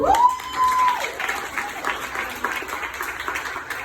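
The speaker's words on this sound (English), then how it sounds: "I want to give an applause to Angie and Amy." Audience applause at a Dominican Writers book release, a short burst of clapping from a modest crowd in a room, opening with a faint tone and continuing steadily without speech.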